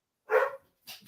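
Dogs inside a house give one loud, close bark followed by a shorter, fainter second bark, with no talk over them.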